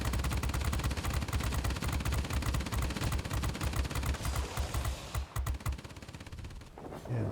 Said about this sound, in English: Just hit it with the turret.